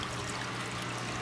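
Hot water poured into a plastic bottle being made into a DIY CO2 reactor for a planted aquarium, a short, steady splashing pour with no talk.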